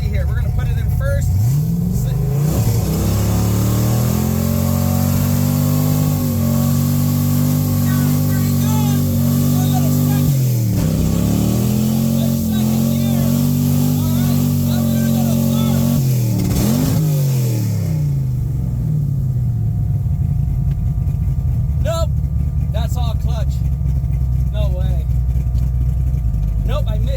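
A manual-transmission car revs hard during a burnout, its engine climbing and falling through several loud, drawn-out revs up close, then dropping away near the end, with a voice heard over it.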